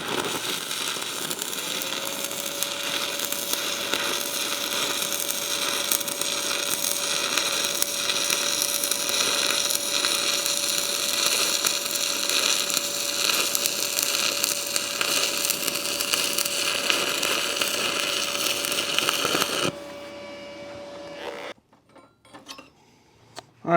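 MIG welding with a Sefaspe MIG 200 PRO welder gives a steady, loud crackling buzz that runs for about eighteen seconds before cutting out, followed by a few faint clanks.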